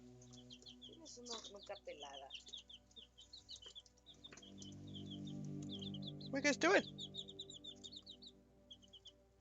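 Baby chicks in the video game Tainted Grail: The Fall of Avalon cheep in quick, thin bursts while someone talks and game sounds play quietly underneath.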